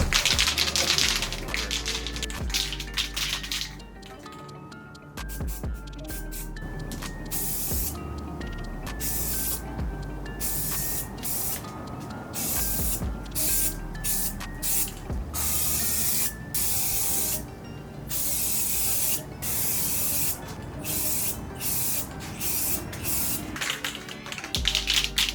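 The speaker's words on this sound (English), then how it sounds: "we're gonna start spraying the base coat and then the clear" Spray gun laying down base coat on an Acura TSX, a steady close hiss running throughout in bursts with short pauses between passes, no voices.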